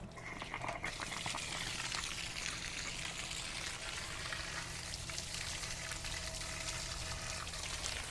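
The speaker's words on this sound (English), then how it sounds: "Now we just let that drain." Water gushes and splatters steadily from an RV water heater tank's drain valve, a continuous rushing hiss with a faint trickling texture throughout.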